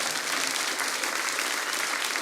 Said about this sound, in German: Ja, darf man mal klatschen.